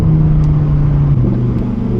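A Lamborghini Huracan Evo Spyder in Corsa mode drones steadily under load, a close, loud and continuous engine note heard from inside the car while driving, with no talking.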